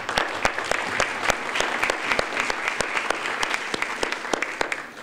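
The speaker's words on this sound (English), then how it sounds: "So let's give him all an applause." Audience applauds a panelist at a regional sustainability conference session, a moderate crowd of steady, fairly close hand claps continuing for about five seconds before tapering off.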